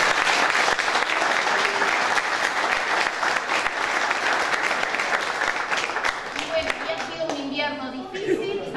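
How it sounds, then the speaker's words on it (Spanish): Warm applause at a municipal community dining hall during a charity blanket handout, sustained clapping that thins out toward the end as voices and children's chatter come through. "le pido también un fuerte aplauso"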